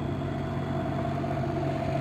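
A steady engine hum idles close by near a 2023 Renegade Verona 40VRB motorhome, with an even low rumble and a faint tonal whine holding constant throughout and no voices.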